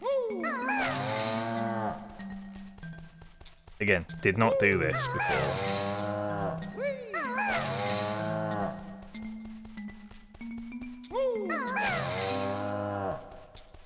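Cow mooing in long, drawn-out calls repeated about four times, loud and close, with a person speaking briefly in between.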